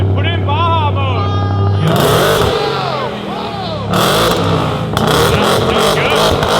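A modified Ford Raptor pickup truck engine revving loudly up close in Baja mode at a truck meet, rising and falling roars with brief clattering, voices talking over it throughout.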